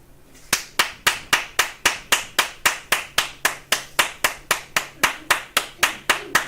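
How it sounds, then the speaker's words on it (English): Bare hands clapping at a slow, perfectly even pace of about two claps per second, over twenty crisp, close claps in a row with nothing else heard. "I'm going to clap my hands with a frequency of 2 hertz."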